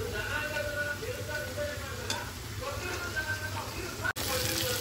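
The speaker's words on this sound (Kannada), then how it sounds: "ಸೊ ಈ ಒಂದು ಸ್ಟೇಜಲ್ಲಿ ನಾನು ಕರಿ ಲೀವ್ಸ್ನ ಹಾಕೋತಾ ಇದ್ದೀನಿ." Prawns fry Chennai beach style in a pan as curry leaves go in, making a soft, steady sizzle and spatter under a person talking.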